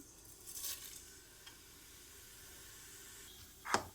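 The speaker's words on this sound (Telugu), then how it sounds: "కొంచెం జీలకర్ర వేసుకుంటున్నాను" Cumin seeds hit hot oil in a pan and set off a steady, soft sizzle and hiss, with a few brief clinks and a sharper scrape or stir near the end.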